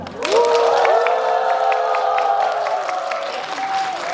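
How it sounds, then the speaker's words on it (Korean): At a film stage greeting, a crowd cheers with high, drawn-out shrieks and squeals over a bed of clapping, swelling quickly and staying loud throughout. "저희 박수해주시고 환호해주셔서 감사드리고요."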